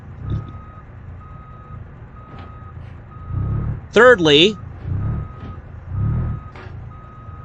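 Truck reversing beeps in the BeamNG.Drive driving game, a steady series of evenly spaced electronic beeps under low engine rumble, with someone talking briefly partway through.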